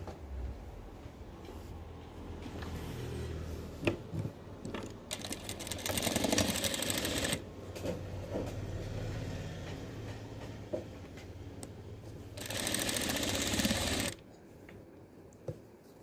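A sewing machine stitches a frock nighty, running in two distinct loud bursts of rapid mechanical clatter separated by quieter handling noises.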